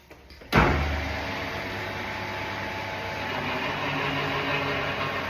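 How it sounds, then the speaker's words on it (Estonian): A motor kicks on with a thump and then drones steadily as an old, odd-sounding hydraulic car lift lowers a car, a continuous mechanical hum with slight rises in pitch. "Tõstuk teeb natukene kahtlast häält."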